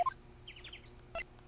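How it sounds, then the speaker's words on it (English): Distant bird chirps from the Phoenix Wright: Ace Attorney video game come as a quick cluster of faint tweets with a couple of separate higher notes. The sound is quiet and brief, with no talking. "I like the bird chirping in the distance."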